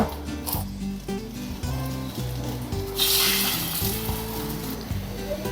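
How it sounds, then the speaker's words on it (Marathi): An egg-dipped bread slice sizzles and fries in oil on low gas, a soft steady crackle under a voice talking, with a brighter burst of sizzling partway through. "डिप करो, मस्तपैकी डिप करो, आणि तेल में छोडो दुसरा पण गॅस बारीक ठेवायचा"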